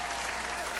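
A room full of people claps together in steady, even applause, brief and fairly close.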